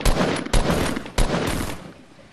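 Three sharp, separate tap-fired gunshots in Fortnite Battle Royale, each a loud close crack spaced about half a second apart with a short decaying tail, no talk over them.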